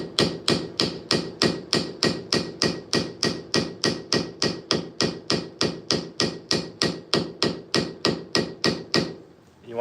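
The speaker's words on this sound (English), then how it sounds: "You want your hammer nice and square, because if it's kicked over, the pin is going to want to flop over." A hammer taps brass pins into knife scales with about thirty quick, even, sharp strikes in a steady rhythm, close and alone, stopping just before the end.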